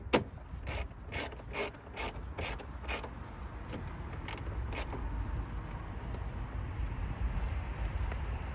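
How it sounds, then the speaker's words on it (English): T25 Torx screws being tightened on a crashed Mercedes under rebuild, heard as a quick series of close ratcheting clicks from a hand tool, followed by faint mechanical handling noise. "I can now tighten up the two T25 torque screws"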